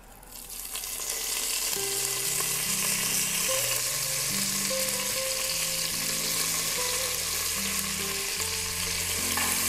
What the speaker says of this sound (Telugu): ఇవన్నీ కూడా దోరగా వేగాలండి సిమ్లో పెట్టి.